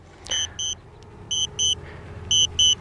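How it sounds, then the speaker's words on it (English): A DJI drone controller beeps during return to home, sounding three pairs of short, shrill electronic beeps at steady intervals over faint background noise. "now we're gonna get that annoying buzzing,"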